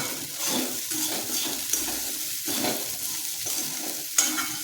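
A spoon stirring idli fry in a pan: rhythmic scraping strokes over a soft sizzle, with a couple of sharp metallic clicks against the pan, close and clear.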